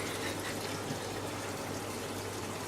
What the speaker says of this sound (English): Seem to have got it right. There you go, it's filling up with water in there.